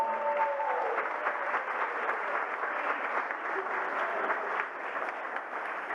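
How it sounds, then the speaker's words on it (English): Wedding guests applaud together in a sustained, even round of clapping from a crowd, heard at a moderate distance with a faint voice briefly underneath, easing slightly toward the end. "Big round of applause."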